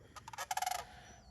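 Sandhill cranes give a rapid burst of rolling, rattling calls, a dozen quick pulses in about a second, fairly distant and faint in marsh habitat.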